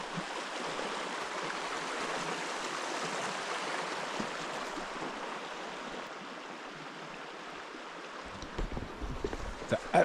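Hell Roaring Creek, a mountain stream at the source of the Missouri River in Wyoming, gives a continuous broadband rush of flowing water, steady and moderately loud, with wind buffeting the microphone near the end.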